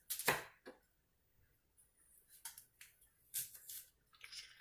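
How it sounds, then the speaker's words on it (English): A very sharp kitchen knife slicing through an onion: a few crisp, close cuts and scraping strokes with short quiet gaps between them, fairly faint overall. "Slice on through the onion."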